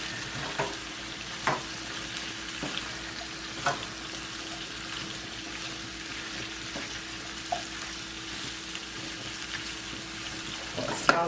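Yellow squash and zucchini fry in a stir fry pan alongside chicken sausage, a soft continuous sizzle with occasional clinks and scrapes of stirring, close and fairly quiet.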